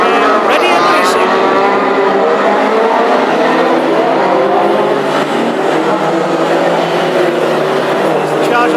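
Classic hot rod race cars roar off the start of a heat at Northampton, engines loud and continuous under a commentator's voice talking over the racing noise.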